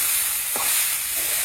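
Vegetable bhaji sizzling in a pan in a Bangladeshi village kitchen, a steady close hiss with a brief scrape of stirring partway through, no voices.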